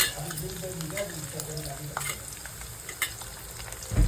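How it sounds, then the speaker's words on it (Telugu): Onions and tempering seeds fry in oil in a pan, giving a steady close sizzle with light stirring scrapes throughout, ending in a brief louder knock. "వీటిని కూడా బ్రౌన్ కలర్ అయితే బాగా ఫ్రై చేసుకోవాలండి ఆనియన్ని"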